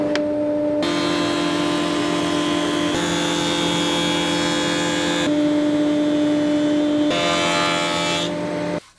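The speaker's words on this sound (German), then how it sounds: "Absaugung an." A workshop dust extraction system drones steadily and loudly beside a jointer while an oak table top is machined, with an even tonal whine that shifts slightly a few times and cuts off abruptly at the end.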